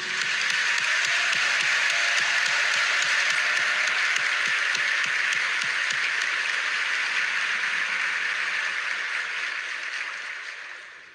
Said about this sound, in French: exprimer notre gratitude par ce tonnerre d'applaudissements